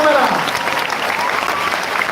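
Applause from an audience at a birthday felicitation gathering, a steady dense clapping that fills the whole stretch, with a voice speaking over it.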